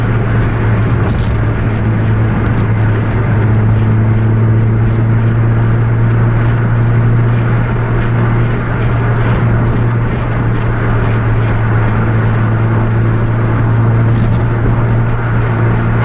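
A Volvo bus in a driving video game races at high speed, its engine a loud, continuous low drone with a steady hum that holds throughout without letup.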